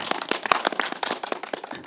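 An audience at a film screening and talk with the director and actors claps in a dense, brisk patter of many hands that lasts a couple of seconds without any talking.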